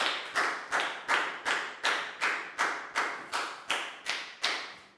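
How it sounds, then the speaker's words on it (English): Hands clapping in a primary school maths classroom, about eleven evenly spaced, sharp claps in a steady rhythm, close and alone without talk. "High five and a big round of applause for Bangpon"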